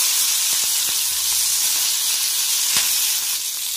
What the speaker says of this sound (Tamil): பூண்டு, மிளகு, சீரகம், தூதுவளை நல்லா வணக்கி விடுங்க.